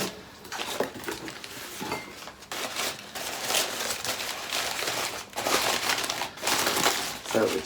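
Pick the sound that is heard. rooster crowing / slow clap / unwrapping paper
unwrapping paper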